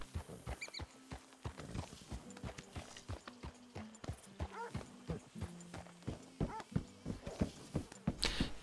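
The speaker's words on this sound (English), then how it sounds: "Bisschen das Pferd streicheln." A horse being petted in the video game Red Dead Redemption 2 makes soft hoof shuffles and clopping steps with snorts and tack jingles, moderately close, with no talk.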